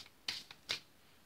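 Oracle cards shuffled by hand, giving two short papery riffles with a faint tap between them, close and quiet with no one talking.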